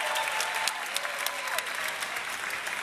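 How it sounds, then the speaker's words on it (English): Dense, steady applause from a mall audience greeting the Miss USA 2011 contestants at a Las Vegas fashion show, sharp claps scattered through a continuous wash of clapping. "give them a round of applause"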